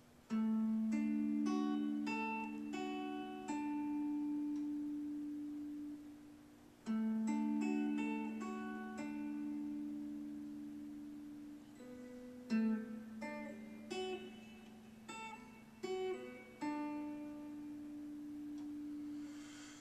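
Clean electric guitar picks out the intro line of a song, single notes and short arpeggios ringing over sustained low notes, with a brief pause before the phrase repeats.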